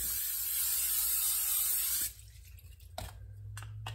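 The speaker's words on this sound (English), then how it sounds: "we're going to spray the pan first with this stuff" A steady hissing aerosol of cooking spray onto a bread pan runs for about two seconds, then stops, followed by a few faint clicks and light handling noises.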